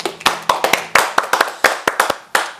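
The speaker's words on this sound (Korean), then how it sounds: "박수." A small audience claps to congratulate a policy study group's launch as a nonprofit: about a dozen sharp, separate handclaps in an uneven rhythm, close and loud with short silences between them rather than a full wash of applause.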